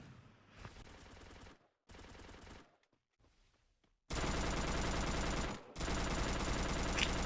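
Rapid bursts of automatic gunfire in the video game Free Fire, loud and close, with short pauses between volleys and a brief quieter stretch before heavier sustained firing.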